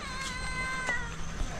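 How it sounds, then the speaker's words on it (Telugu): A cat in Bali gives one drawn-out meow close by, moderately loud over a low background hum. "ఈ పిల్లి ఎప్పుడు నేను వచ్చినా టక్కన నన్ను చూస్తుంది."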